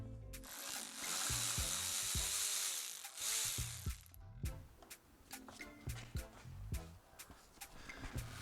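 Ratchet clicking in bursts while a bolt is backed out on a 2008 Chevy Tahoe during oil pan work, close and mechanical, with short pauses between strokes and no talk.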